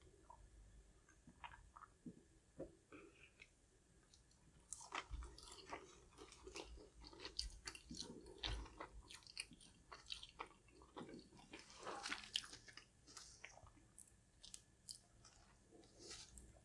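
Close, intermittent crunching and wet chewing of a Popeyes spicy flounder fish sandwich topped with tartar sauce, bites coming in irregular bursts with no talk.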